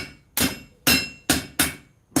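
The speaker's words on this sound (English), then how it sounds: "when you hammer it like this, it gets thicker" Hammer striking hot steel while forging the handle components of a Bowie knife, five sharp ringing blows at a steady, unhurried rhythm with no talking.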